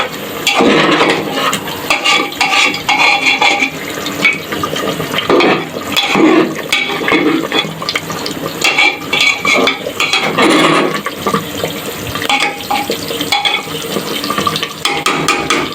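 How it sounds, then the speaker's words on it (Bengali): Hot water is poured into a cooking pot while a dinner dish cooks, giving a loud, steady splashing and bubbling pour that runs for the whole stretch. "দেখো গরম জল দিয়ে দিলাম"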